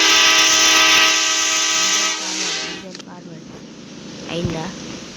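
A train horn sounds in a video game, a loud sustained blast with strong harmonics for about two seconds before it fades into rumbling movement and light clatter.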